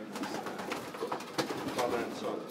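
A Belgian racing pigeon cooing softly at close range in repeated low murmurs, with a voice talking nearby.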